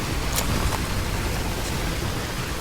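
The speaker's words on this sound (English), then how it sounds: "The rain doesn't put it out, but the water up here does" Steady rain in the horror game Choo Choo Charles, a dense, even hiss that runs unbroken and fairly loud throughout, with a couple of faint brief ticks over the wash.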